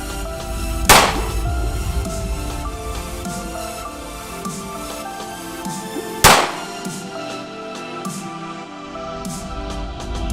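Two sharp, loud gunshots about five seconds apart from a Devil Dog Arms 3.5 inch 1911 pistol firing Remington UMC 230 grain rounds, each a sudden crack with a short ring over low outdoor background noise.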